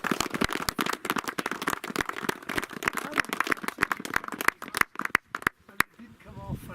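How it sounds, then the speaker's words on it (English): Coaches clap for the players: a dense run of sharp handclaps, close and fairly loud, continuing for several seconds before thinning out to a few last claps. "Coaches, can we give the lads a clap?"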